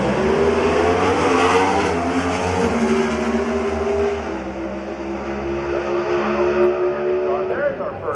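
A big Hemi-powered Dodge Pro Stock drag car races at Sonoma. Its engine screams with rising, layered tones, loud and close, while an announcer talks over the roar.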